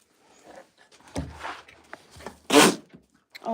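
A single sharp sneeze bursts out midway, loud and close, among a child's chewing and small mouth noises at a farm snack time.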